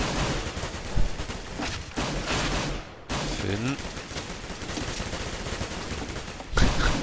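Rapid bursts of gunfire in the video game Counter-Strike on the de_mirage map during a professional StarSeries match, sounding continuously under a commentator's excited talk.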